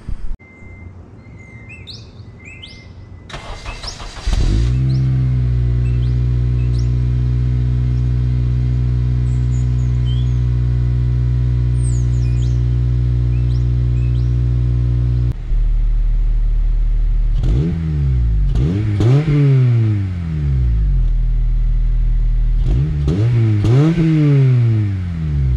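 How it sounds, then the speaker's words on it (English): Cold start of a 2007–2011 Honda Civic Si with a muffler delete: a loud, raw idle drones steadily before several sharp rising-and-falling revs toward the end, with faint bird chirps in the background. "So that was a cold start, warm up, and a rev."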